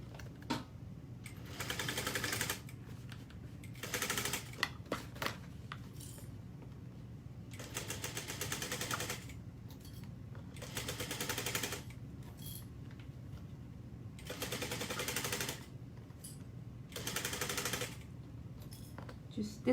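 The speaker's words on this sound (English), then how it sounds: "we're gonna stitch this at a 1/2 inch seam allowance" A sewing machine stitches a seam at a half-inch allowance with a 3.5 stitch length, running in several rapid rattling bursts separated by pauses, fairly quiet and close.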